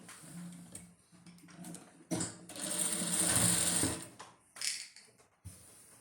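A sewing machine stitches a seam on a suit, running in short bursts of rapid mechanical chatter with brief pauses between, fairly close and moderately loud, with no talk.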